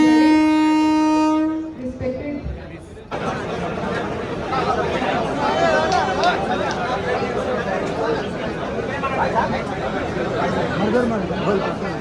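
A train horn sounds briefly, then a Vande Bharat express train rumbles and rattles through Nandyal railway station while a crowd chatters loudly in the background.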